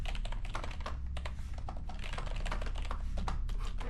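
Rapid, steady typing on a computer keyboard, close and crisp, with dense overlapping key clicks running throughout and no voices.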